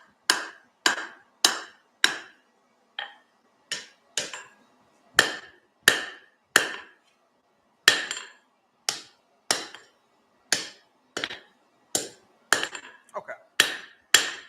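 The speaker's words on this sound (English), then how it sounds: "I'm just gonna squish it down, upset it, if you will" A hammer strikes hot metal at a forge to upset a weld while making small dividers, about twenty sharp, ringing blows, close and evenly loud, spaced a second or so apart with brief gaps.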